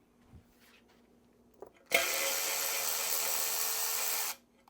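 Power tool spinning out bolts on an outboard motor lower unit bearing carrier, a single burst of loud steady whirring about two and a half seconds long after a couple of faint clicks, with no talk.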